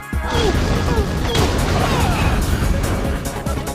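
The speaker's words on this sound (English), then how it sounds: "treat your enemies to piñatas, exploding piñatas" Exploding piñatas in a video game, a dense run of crashing, thumping blasts and cracking debris, loud and continuous, all close together with no talk.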